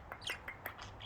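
Parrots give several quick, faint chirps in a rapid run of short, high calls over a quiet background.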